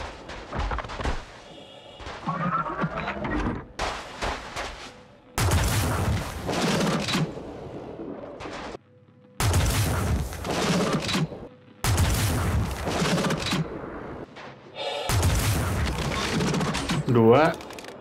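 Electron Bolt sniper rifle fired in the video game Star Citizen: four loud, heavy booming shots spaced a few seconds apart, each with a long crackling tail, with someone talking between them.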